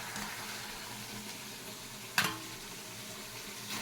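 Eggs hitting a spice mixture in a hot pan give a steady, close frying sizzle with one sudden louder spatter partway through, then the hiss continues evenly.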